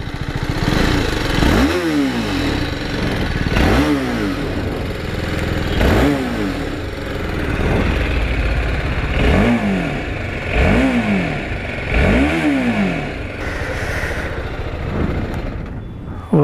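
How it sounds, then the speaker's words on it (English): TVS Apache RR310 motorcycle revving repeatedly, its exhaust note rising and falling in about seven sharp throttle blips spaced a couple of seconds apart, loud and close over a steady idle. "to check out the exhaust note"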